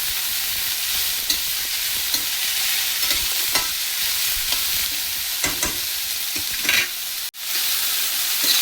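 Bitter gourd sautés in a pan, a continuous bright sizzle and crackle with occasional stirring scrapes, loud and close with no talking, broken by a sharp clatter near the end.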